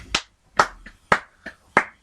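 Six sharp hand claps with uneven gaps, close and dry against silence, some louder and some lighter, with no voices.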